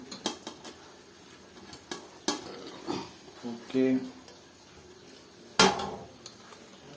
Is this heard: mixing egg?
yes